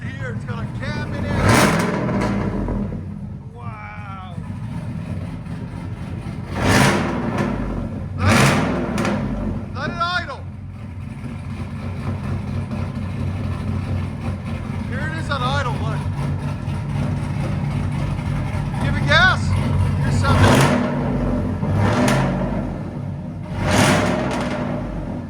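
A supercharged 5.3L Chevy Silverado with headers, a cam and a FLOWMASTER Outlaw dual exhaust rumbles at a low idle and is blipped through a series of loud, close revs, with people talking in between.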